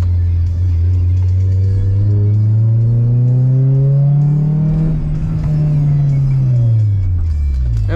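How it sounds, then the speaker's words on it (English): A car engine drives after a new power steering pump has been fitted, a steady low hum that rises gradually in pitch as it accelerates, then drops near the end as a shift or easing off occurs; close and continuous, no talk. "the engine doesn't sound like absolute dog shit anymore"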